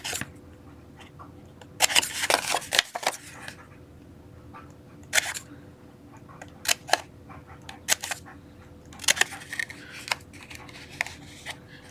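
Scissors snip through stiff board in a few sharp, close clusters of crisp cuts separated by quiet pauses.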